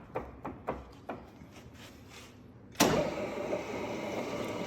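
A Cleereman 25-inch sliding head drill press is jogged with a few quick motor pulses, then its motor switches direction and settles into a steady close running whir and hum.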